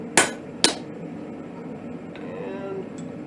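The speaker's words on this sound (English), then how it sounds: "Losing a lot of heat on that cold anvil." A hot metal hook is struck on a cold anvil with two sharp, ringing hammer blows close together near the start, then only faint workshop noise and a light clink follows.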